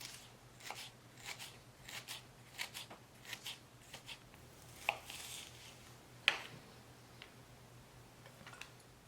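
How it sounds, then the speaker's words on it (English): A knife slices ginger thinly on a board, giving quiet, close, irregular taps and cuts in short bursts, with softer scraping between strokes against a faint hum. "When you add ginger, try to cut as thin as possible."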